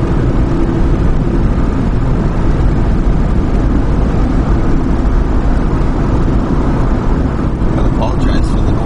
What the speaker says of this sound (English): I got the window open and it's quite noisy.